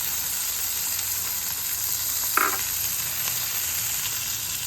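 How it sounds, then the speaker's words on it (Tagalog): An egg frying in a pan of hot oil, a loud, steady, close sizzle that continues throughout, with one brief clink midway. "Lagay ko ng itlog."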